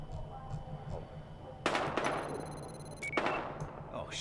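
Bursts of rapid gunfire break in suddenly in the video game Battlefield Hardline, loud and sharp, with a steady background hum between volleys.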